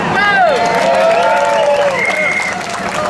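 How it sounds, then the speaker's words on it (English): Applause and cheering from a crowd at a rally about the Pride grand marshal, steady and loud, with whistles and shouts rising above the clapping. "A big round of applause for Daniel Ellsberg."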